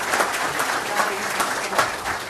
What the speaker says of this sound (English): So a round of applause for the parents.